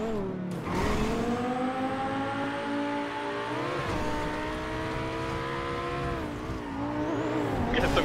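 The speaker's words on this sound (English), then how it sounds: "I'm glad the engine sounds good now" Race car engine in GTA 5 NoPixel roleplay, a loud continuous whine climbing and shifting through gears with tire squeal on top, no talk.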